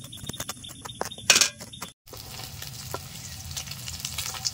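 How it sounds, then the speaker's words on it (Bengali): Hilsa fish tails frying in oil in a home kitchen, a continuous crackling sizzle with stirring clinks, a short break and then steady frying again, no voices. "মাছের লেজগুলো ভেজে নেওয়া হয়ে গেছে, তুলে নিচ্ছি।"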